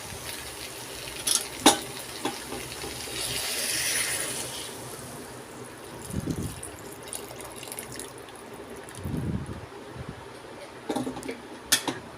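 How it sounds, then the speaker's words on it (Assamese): Hot water poured into a pan of sizzling mixed vegetable curry, giving a steady frying hiss with a couple of short bubbling surges and splashes, close by and without speech. "এতিয়া ইয়াত মই গৰম পানী দি দিম"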